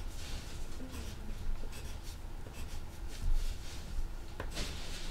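Pencil strokes on paper add spiky detail to an anime character drawing of Kakashi Hatake: close, quick scratchy strokes in irregular bursts, with a few sharper flicks and no voices.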